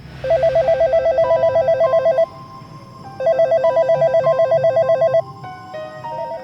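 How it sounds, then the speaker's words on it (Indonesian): A desk telephone at a hospital security post rings loud and close in two long trilling bursts separated by a short pause, followed by a softer partial ring. "ketenangannya tiba-tiba terganggu ketika telepon di mejanya berdering"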